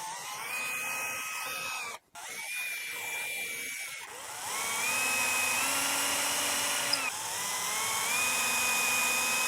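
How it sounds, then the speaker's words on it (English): A power drill drills screw holes in a replacement wooden chair seat, whining steadily at high speed in several sustained runs separated by brief pauses, close and loud. "Actually, I think I'm just going to drill them."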